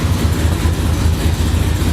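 A steady, low engine idle at 1200 RPM rumbles close by, its even throb holding at one pitch with no voices.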